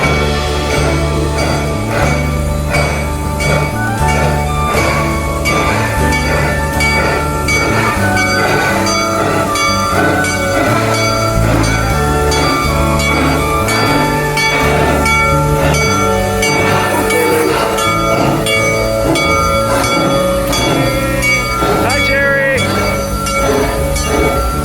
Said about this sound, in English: pretty soon the train should hopefully get here